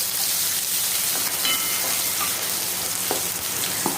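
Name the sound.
onion, garlic and ingredients sautéing in pan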